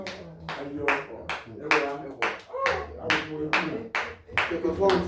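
Church congregation clapping in rhythm during worship, a steady run of sharp claps with voices singing or speaking underneath.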